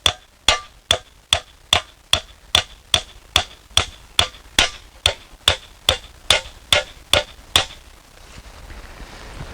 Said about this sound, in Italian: Si appoggia la lama sul battifalce e si inizia a dare dei colpi di martello